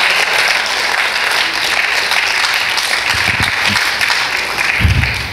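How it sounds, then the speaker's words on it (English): Loud congregational hand clapping at a Sunday evening church service, a dense, steady burst of applause from the audience with a few low thumps mixed in. "Give the Lord a hand clap for that right now."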